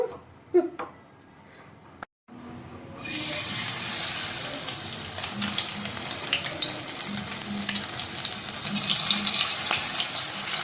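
Fish frying in oil: after a few brief knocks and a short silence, a loud, continuous sizzle that crackles and builds steadily.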